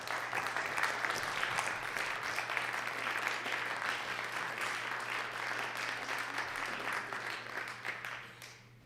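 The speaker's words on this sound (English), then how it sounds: "Let's give them a round of applause." Round of applause in the South Dakota Senate chamber thanking the Farmers Union, steady moderate clapping over a low hum that fades out at the end.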